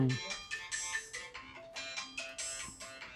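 A melodic phone ringtone plays a repeating chiming pattern of bright notes, moderately loud, cycling several times over a few seconds.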